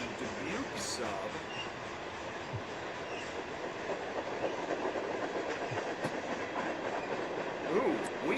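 A freight train rolls past on the tracks on the Dubuque sub, with a steady dense rumble and clickety-clack of wheels over rail joints and a few faint squeals, continuous and fairly close throughout.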